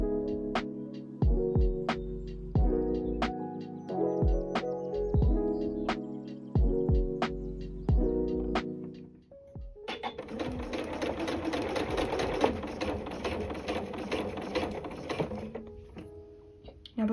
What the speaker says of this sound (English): So I'm going to start by just stitching onto some scrap fabric.